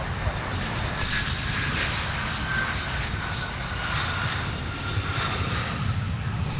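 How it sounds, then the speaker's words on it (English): A loaded airliner takes off from runway 30 left at Minneapolis–St. Paul airport, a steady, loud broadband jet engine roar that holds evenly throughout with no pauses. "They used almost the whole strip of tarmac to get airborne on 30 left."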